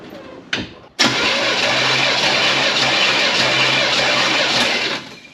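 A Chevelle's engine cranks briefly, catches and roars into a loud, steady idle nearby that holds for several seconds before dropping off, with no talk.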